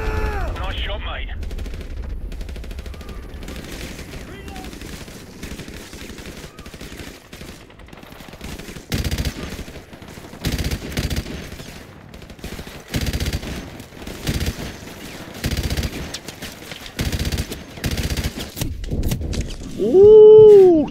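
Call of Duty Modern Warfare gunfire in a multiplayer match, repeated bursts and shots scattered through the clip over a busy game soundscape, with a loud tonal sound near the end.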